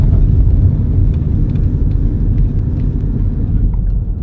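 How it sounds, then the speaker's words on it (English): A pedal-powered FitCar driving to a racetrack produces a continuous low rumbling whir of motion, steady and close with no voices. "Put it in gear and we pedal our way to the racetrack."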